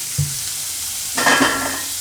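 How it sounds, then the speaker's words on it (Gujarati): Bitter gourd and raw mango curry cooks in a pan, a faint simmering hiss broken by a short stir and a louder burst of sizzling near the end, no talking. "આને આપણે પાકવા દેવું વચ્ચે વચ્ચે હલાવતા રહીએ આપણે"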